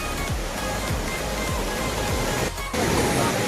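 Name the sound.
water gushing at a dam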